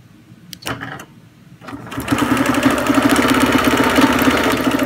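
A quilting machine stitching an all-over clamshell design starts after a few brief clicks and then runs steadily, with a loud, fast, even mechanical chatter close by and no talking.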